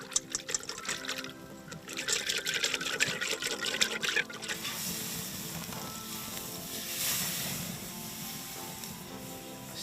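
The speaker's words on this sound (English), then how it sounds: "Sear it off. We're not trying to cook it totally all the way through." Bluefin tuna searing in a hot pan after a maple syrup and olive oil glaze, with a bright crackling sizzle that starts with sputtering bursts and settles into a steady hiss.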